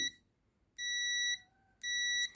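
Multimeter continuity tester beeping while probing a Nokia-style keypad phone circuit board, two clear high-pitched electronic beeps of roughly half a second each, separated by a short gap, in a quiet room.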